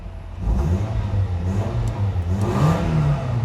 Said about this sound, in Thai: เดี๋ยวสตาร์ทเครื่องดู